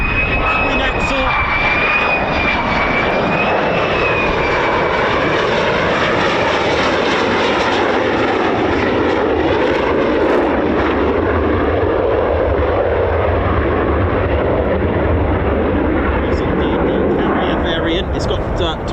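A military fighter jet's engine roars steadily and loudly at RAF Lakenheath, a US Air Force fighter base with F-15 and F-35 jets, holding a broad, constant rumble with a voice talking over it.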